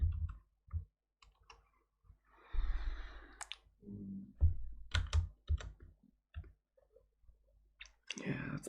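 Scattered key clicks come from a freshly cleaned computer keyboard, typed in short bursts with pauses, alongside close breathing and sighs.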